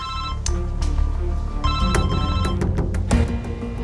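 A mobile phone left behind rings loudly with a repeating electronic ringtone pattern, steady tones broken by sharp pulses, heard alone with no talk over it.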